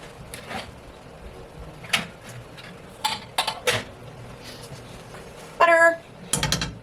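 A metal spoon clinks and scrapes against a pot while butter is added, giving scattered light taps and a brighter scraping burst near the end, close and fairly quiet.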